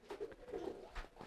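Homing pigeons coo in a loft, giving a few soft, low throaty coos in quick succession, close and quiet.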